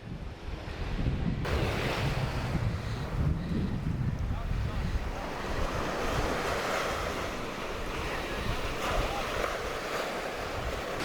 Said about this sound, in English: You can see the water rushing in through there.